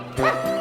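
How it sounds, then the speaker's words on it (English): A cartoon dog gives a quick, close, high-pitched yip-like bark, short and bright. "If you keep barking like that, they'll find me."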